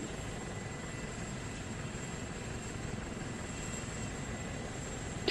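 Helicopter in the video game Arma 2 flying overhead, a steady, loud, unbroken rotor and engine drone that holds level for the whole stretch with no talk.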